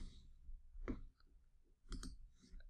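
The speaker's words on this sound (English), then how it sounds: "you can click on Save" A computer mouse clicking on a Save button in the Google Analytics 4 admin settings, two or three soft close clicks spaced about a second apart in a quiet room.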